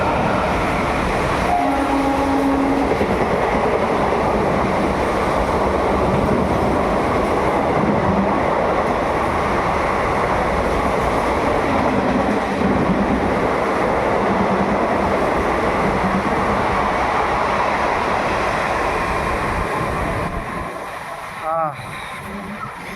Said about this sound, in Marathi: ही एक्सप्रेस ट्रेन गेली आताच, सारखी येते आणि आपल्याला डिस्टर्ब करत असते